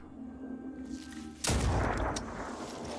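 A single heavy shotgun blast from the Phoenix Point video game cracks out suddenly after a quiet low hum, loud and close, with a rumbling tail that fades slowly.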